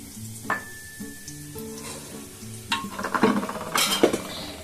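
Dry red chillies, cumin, bay leaves, crushed cloves and cardamom sizzle and crackle in hot oil, with a spoon stirring and clinking against the pan as the frying grows louder and busier toward the end.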